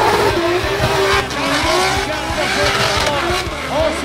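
An SC300 with a 2JZ engine drifts under throttle at a DMCC competition at ICAR Mirabel, its loud engine roaring and revving steadily while tires squeal, with a commentator talking over it.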